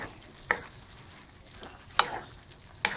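Egg being stirred into an eggplant stir-fry (adobong talong) in a hot pan, with three separate spatula scrapes spaced about a second apart over a soft sizzle, and no talking.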